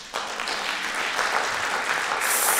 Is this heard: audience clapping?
yes